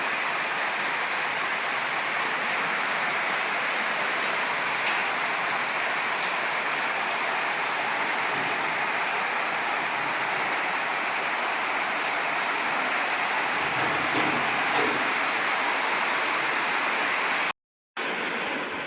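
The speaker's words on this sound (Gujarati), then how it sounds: "આટલો વરસાદ આવી ગયો છે, જોઈ શકો છો." Heavy monsoon rain pouring onto a road, a dense, loud, unbroken roar of falling water that cuts out briefly near the end.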